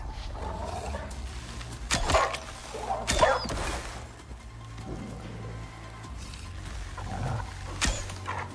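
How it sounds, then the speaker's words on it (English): Several wolves growl and snarl in the survival video game Icarus, with rough, rumbling growls that rise in short bursts over a steady low background hum, fairly close and moderately loud. "That is a lot of wolves."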